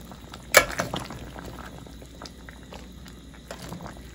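Water boiling in a pot, a low bubbling roll with scattered pops and a sharp splash or clink early on, close and moderately quiet.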